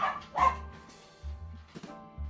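A dog barks three times in short, loud bursts with pauses between them, indoors, with no talking.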